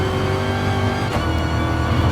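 A race car engine at Laguna Seca in the GT Sport racing video game roars steadily and close throughout, a continuous high-revving drone with no voices heard.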